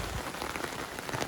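Steady rain pattering on canvas military tent shelters at a bushcraft camp, a dense, even patter of drops with no pauses, heard up close and alone.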